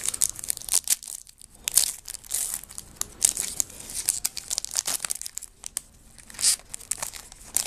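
Foil packs of 2012 Topps baseball cards being ripped open up close, a steady run of crinkling, crackling wrapper tears with sharp bursts at intervals and brief quieter pauses, no talking.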